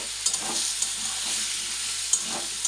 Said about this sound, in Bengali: আলু আর পেঁয়াজ একসাথে ভাজা ভাজা হবে